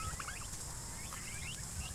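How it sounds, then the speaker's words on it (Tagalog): Turkey chicks on a poultry farm peep in soft, repeated high calls throughout, a steady faint chorus over low background rumble with no talking. "Ito po ang aking mga sisiw ng pabo."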